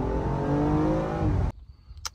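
A BMW M car with xDrive all-wheel drive launching hard: a loud engine roar climbing steadily in pitch as it accelerates, then cutting off abruptly into near quiet with a faint brief hiss.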